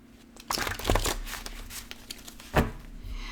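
Oracle cards are shuffled by hand in a quiet room, giving scattered papery riffles and crinkling bursts with a sharper snap near the end.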